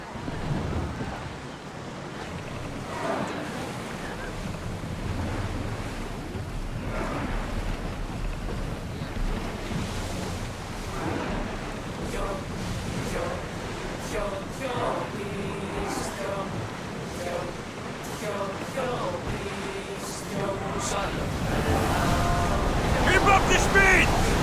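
An ancient ship under sail surges across open ocean in Assassin's Creed Odyssey, with steady rushing waves and wind gusts that swell louder toward the end, occasional faint voices in the background.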